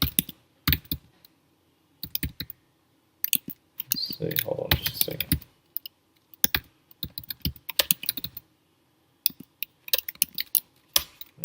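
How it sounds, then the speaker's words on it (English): Bursts of close keyboard typing, quick clicky keystrokes in short runs with pauses, while a person talks briefly. "basically you start typing the name."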